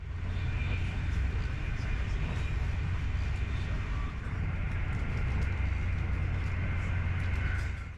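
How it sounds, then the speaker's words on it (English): Steady low rumble and broadband rush inside a Brightline high-speed train cruising at 125 mph on dedicated single-track high-speed line, continuous and loud throughout with a faint hiss above. "We're already cruising at 125 miles an hour along the dedicated stretch of high-speed track"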